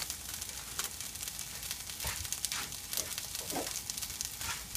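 Mushrooms and onions cooking in a soup pot as a base, with a soft, steady sizzle and occasional louder hissing stirs close by.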